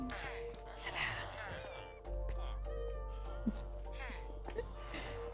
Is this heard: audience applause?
no